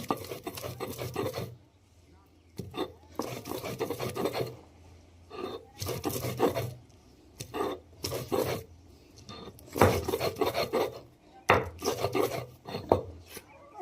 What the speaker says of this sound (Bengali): আদাটা আমি ভালো করে বেটে নিচ্ছি, দেখুন।